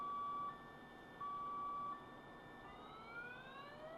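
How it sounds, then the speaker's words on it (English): Farming Simulator 19 vehicle reversing beeper sounds in long, evenly spaced electronic beeps, then a rising siren-like wail takes over, clear and fairly loud with no talk. "Get ready for the most annoying reversing beeper in the world."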